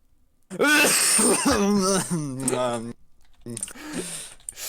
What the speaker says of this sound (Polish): ja nie wiem kiedy mam zacząć kaszleć